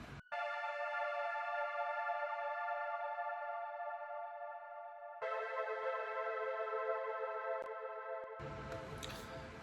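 An Electra X synth preset in FL Studio holding bright, sustained tones that shift to a new pitch partway through, then cut off into a short burst of noise near the end, with no voices.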